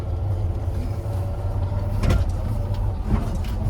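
An old Soviet Moskvich car engine rumbles steadily from inside the uninsulated cabin while driving, a loud low drone with rattles and occasional knocks.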